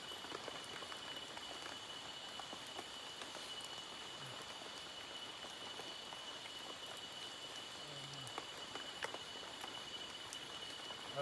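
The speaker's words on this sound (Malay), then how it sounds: "Ini masih hujan juga nih teman-teman, tapi masih gerimis ya." Light drizzle falls outdoors at night in a forest camp with a teak-leaf shelter, a steady soft hiss of rain with scattered faint drips throughout, no voices.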